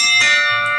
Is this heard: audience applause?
no